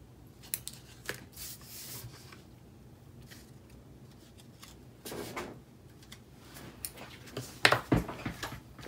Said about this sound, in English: you can go back in with your scissors if it's still not straight